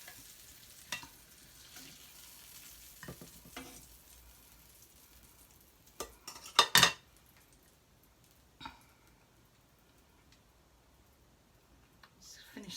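Bacon sizzles faintly in a frying pan during breakfast cooking, a low steady hiss broken by a few sharp utensil knocks and clatters, with soft voices in the background.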